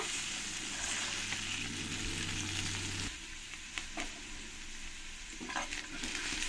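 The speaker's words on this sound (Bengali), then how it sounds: "আলুগুলো আমি একটু ভালো করে লাল লাল করেই ভেজে নেব" Cut potatoes fry in hot oil with a dense, continuous close sizzle, broken by a few scraping stirs and a shift in intensity midway.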